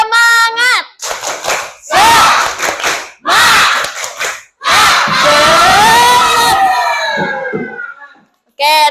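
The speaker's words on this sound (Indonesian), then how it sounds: "Coba tepuk semangat." An Indonesian audience of trainee teachers performs the tepuk semangat chant, loud rhythmic bursts of group clapping and shouted chanting in several short phrases, ending in a long sustained collective cheer.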